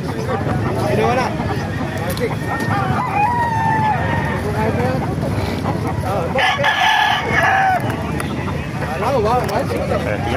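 Roosters crow repeatedly amid clucking chickens at a busy chicken market in Calumpit, Bulacan. Several drawn-out crows rise above a crowded background, and people talk nearby throughout.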